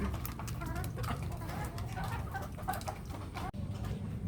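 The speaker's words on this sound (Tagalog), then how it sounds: "ito na yung kalagayan ng mga manok dito sa likod bahay" Several backyard chickens in a flooded yard cluck and chatter nearby in a busy, overlapping flock, with scattered short calls over a steady outdoor background hum.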